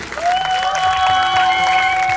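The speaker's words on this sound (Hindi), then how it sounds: "मैं चाहता हूँ कि एक बार जोरदार तालियां हो जाए रजत चौहान जी के लिए।" An audience at a televised event applauds in a brief burst of steady clapping, heard under a sustained musical tone that rises and then holds for about two seconds.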